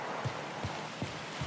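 Rain falls in The Heilwald Loophole horror game, a soft steady hiss with a few faint, evenly spaced dull thuds, quiet and unaccompanied by speech.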